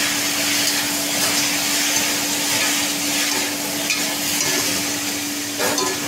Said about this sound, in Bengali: একটু আমি হলুদ দিয়ে দেবো পরিমাণ মতো, দিয়ে আমি নাড়িয়ে নেব।